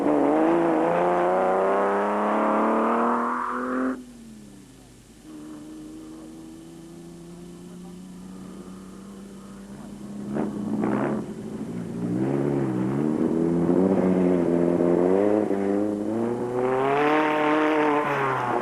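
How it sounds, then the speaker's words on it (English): A Toyota Land Cruiser in the Baberspan 200 off-road race, its engine loud and near, revving up and down with rising and falling whine, dropping to a quieter drone before roaring back hard. "Reineke and van Tonder were on a charge in the ex-RP Reineke Toyota Land Cruiser"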